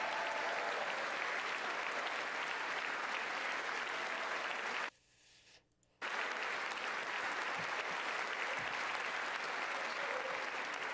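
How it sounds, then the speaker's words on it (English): Sustained audience applause at a State of the Union address fills the hall, loud and continuous, breaking off abruptly for about a second before resuming at full strength. "everybody's gonna fucking stand and applause after every sentence"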